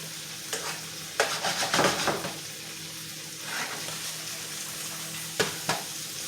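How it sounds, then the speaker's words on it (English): Lamb sears in butter in a pan with a steady close sizzle, and a few sharp clatters and stirring bursts sound over it. "We're going to let them simmer. Not simmer, but sear for about 5 to 6 minutes."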